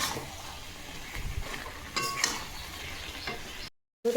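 Pumpkin greens chorchori with hilsa fish head stir-fried dry in a pan, a low steady sizzle with scraping stirs and a brief clink, ending in a short silent gap.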